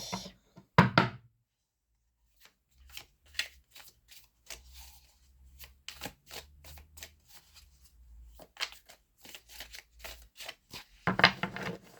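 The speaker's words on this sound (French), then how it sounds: "je mélange un peu les cartes" Tarot cards shuffled by hand at close range in a quiet room: a sharp riffle burst, then a long run of soft irregular flicks and rustles, ending in another dense riffling burst.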